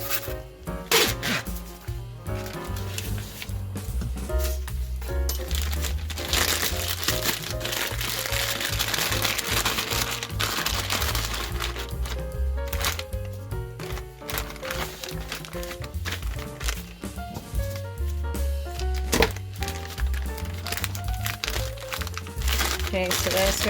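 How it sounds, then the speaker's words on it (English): A plastic piping bag crinkles and crackles almost continuously as it is handled and prepared, close and loud, with dense rustling throughout. "I am going to prep my piping bag."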